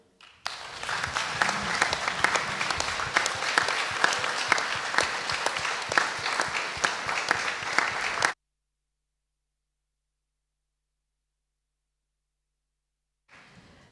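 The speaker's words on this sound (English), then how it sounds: "This applause is for you." Audience applause at the closing ceremony of a Model UN assembly, loud and dense clapping from a large crowd lasting about eight seconds before cutting off, with a brief faint return at the end.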